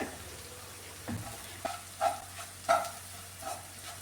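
Tuna with chilli powder and black pepper heating in a pan, a quiet sizzle with a few distinct scraping stirs and a low steady hum beneath.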